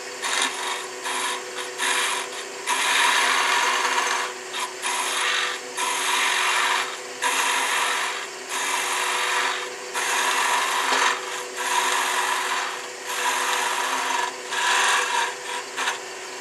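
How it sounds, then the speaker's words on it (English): A fingernail gouge cuts wood spinning on a lathe, giving a loud, steady rasping scrape that breaks into repeated bursts with short pauses between passes, with no talk over it. "Take the fingernail gouge and take it off."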